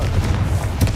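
A Confringo spell blast in the video game Hogwarts Legacy sounds as a short, heavy boom over a low rumbling bed, peaking sharply near the end of a brief moment.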